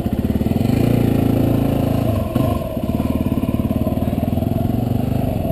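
Motorcycles ride around a rally campground with about 100 riders, a loud, continuous, throbbing engine rumble with a brief clattering shift midway, close by.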